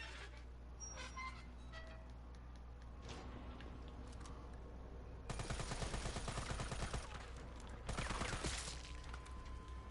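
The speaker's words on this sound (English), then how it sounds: "Let's bring out the assault rifle." Assault rifle gunfire in the Resident Evil 3 Remake video game: two sustained bursts of rapid automatic shots, loud and close, over a steady game ambience with scattered fainter impacts before them.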